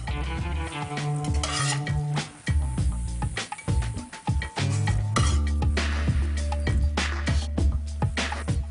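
Fish cakes fry in a pan with a continuous sizzle, while a utensil stirs and clinks against the pan and dishes clatter close by, with no talk.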